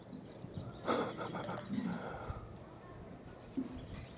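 A horse lying on the ground in the sun, heard outdoors on a weekend hike, gives a couple of short whinnies and snorts with a louder burst near the start. Hoof clops and faint background noise come between them.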